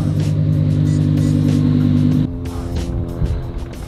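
Supercharged Lamborghini fitted with a titanium exhaust holds a loud, close, raspy high rev, then cuts to a lower burbling, popping idle with crackles.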